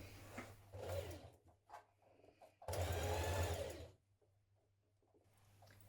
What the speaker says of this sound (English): Stitch that in place with your stretch stitch, then edge finish it.